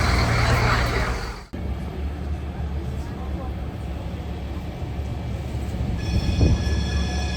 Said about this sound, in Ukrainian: Ми йдемо на метро. Але він виглядає як трамвай.